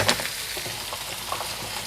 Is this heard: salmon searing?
yes